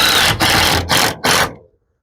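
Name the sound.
screws being driven into a wooden chicken coop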